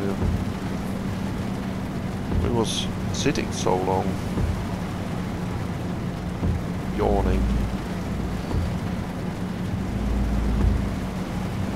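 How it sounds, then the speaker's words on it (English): Steady rain hisses throughout with low rumbles of thunder in Euro Truck Simulator 2, and a person speaks briefly over the downpour. "It's nice sound effects on the rain also."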